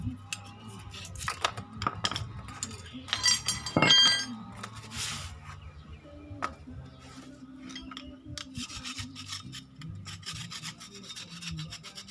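A tool scrapes and picks dirt debris out of the seal housing on a Kubota L4708 tractor shaft, producing soft irregular rubbing and scratching with small metallic clinks, close up and fairly quiet, with no talking.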